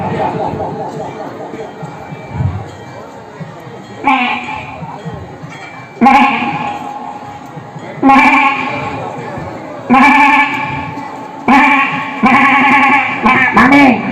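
At a stage comedy mimicry show, a performer imitates a lamb's bleat in the style of a film actor. Several loud, wavering bleats come in separate bursts over a faint crowd murmur.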